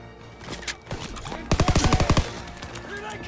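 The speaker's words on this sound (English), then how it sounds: "Open fire! Someone get on the MG!" Machine gun fire in the World War II shooter game Call of Duty WW2, a rapid burst of about eight close, loud shots amid battle noise and shouted voices.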